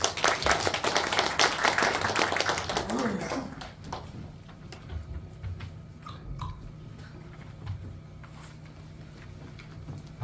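An audience at a city council policy forum on municipal cleaning services applauds a presenter's introduction, with dense clapping for about three seconds before it falls away into quiet room noise and faint shuffling.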